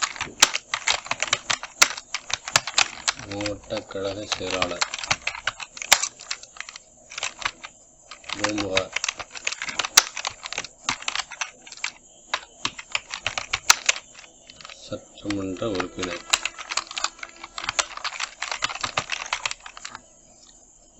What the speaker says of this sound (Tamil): நம்ம இங்கிலீஷ் லெட்டர் அடிக்கிறோம்